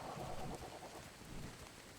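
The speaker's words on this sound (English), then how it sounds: "But of course, it starts raining, and this is the darkest I've ever seen it while raining." Steady rainfall in the survival game ARK: Survival Evolved, a dense, even hiss of drops on the ground that stays loud and continuous throughout, with no voices over it.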